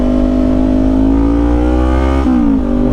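A motorcycle pulls away in first gear, its engine note climbing steadily in pitch as it accelerates, with a brief dip and recovery near the end, loud and close with no talking.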